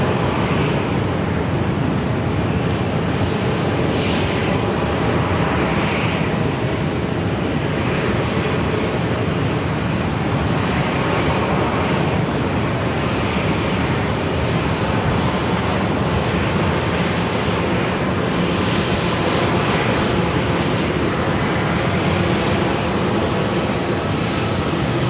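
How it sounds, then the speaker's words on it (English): Jet engines of an Air Canada Airbus A330-300 pushing back from the terminal at Phoenix airport, a steady, loud, broadband roar and whine held throughout with no talking. "the Air Canada A330-300 now pushing back from Terminal 3"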